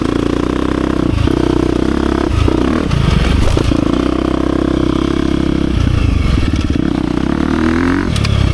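A 2023 KTM 350 XC-F Factory Edition dirt bike roars loudly and steadily as it is ridden off-road, its engine revving up and down with clattering and scraping from the terrain throughout.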